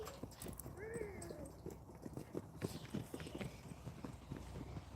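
Rescue horses canter in a steady, fairly faint rhythm of clip-clopping hoofbeats under a person's voice, with a brief whinny-like call early on.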